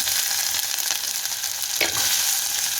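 Onions dropped into hot oil already crackling with mustard and fennel seeds, a dense, bright, continuous sizzle heard up close with a brief clatter partway through and no talking.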